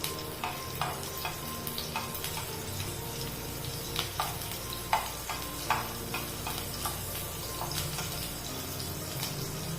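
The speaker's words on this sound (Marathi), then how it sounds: "तिखट छान अशी परतवून घ्यायची आहे।" Green chillies sauté in a pan with a soft steady sizzle while a spoon stirs them, giving repeated scraping taps at an irregular rhythm, fairly quiet and with no talking.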